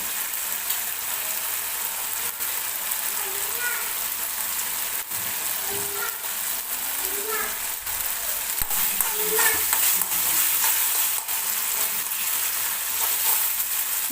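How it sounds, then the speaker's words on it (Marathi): Masala for a dry chickpea (chole) curry fries in oil until the oil separates, a steady close sizzle broken by occasional scraping stirs of a spoon in the pan. "पूर्ण तेल सुटेपर्यंत हा मसाला आपल्याला शिजवून घ्यायचा आहे"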